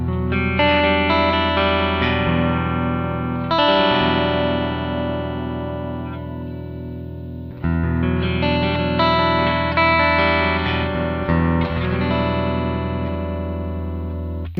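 Charvel Pro Mod DK24 HSH electric guitar on its humbucker pickup with a clean tone, tone control fully open, strumming ringing chords that sustain and decay in two long phrases, played alone.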